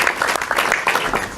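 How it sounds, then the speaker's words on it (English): Brief ripple of applause from leaders gathered at an EU summit in Brussels, a steady wash of many hands clapping at moderate volume without music. "No anthem here, just a ripple of applause."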